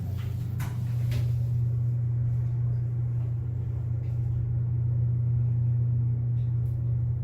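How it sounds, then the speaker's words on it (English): Mowrey hydraulic elevator motor in a hotel runs with a steady, loud low hum that holds throughout, with a few faint clicks and knocks early on. "The motor is slightly louder on this one, but by that I mean it's slightly more audible."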